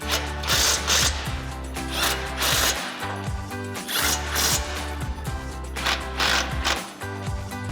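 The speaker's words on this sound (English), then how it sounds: "we can tighten down our hardware using our 16mm socket and extension on our impact" An impact wrench with a 16mm socket and extension tightening hardware while installing a winch on a Ford Bronco, a series of loud, close bursts of rapid hammering, roughly five or six in quick succession.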